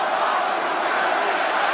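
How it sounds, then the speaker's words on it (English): A wrestling arena crowd roars steadily for Jacob Fatu at WrestleMania, a dense, continuous wall of cheering from a large audience. "crowd's coming alive here"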